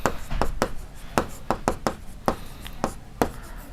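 Chalk or marker writing on a board during a Hindi-language maths lesson on ratio and proportion: a run of sharp, evenly spaced taps and short strokes, fairly close and clear, with no talk over them.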